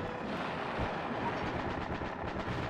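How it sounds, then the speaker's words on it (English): Continuous gunfire and explosions from the video game Battle Engine Aquila rattle in a dense, rumbling barrage, with repeated bursts of shots layered over a low booming wash throughout. "We're being shot at."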